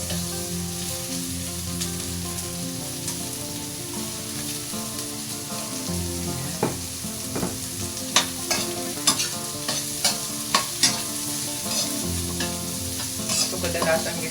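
Carrot strips stir-fry in a pan for a sweet and sour tilapia dish, a steady loud sizzle with scraping and clacking stirs that grow sharper and more frequent toward the end.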